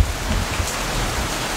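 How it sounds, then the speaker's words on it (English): Steady rain falls on a Hong Kong outing near Discovery Bay, a dense continuous hiss of drops on surfaces with a low rumbling undertone, fairly close and constant throughout with no voices. "It's raining right now."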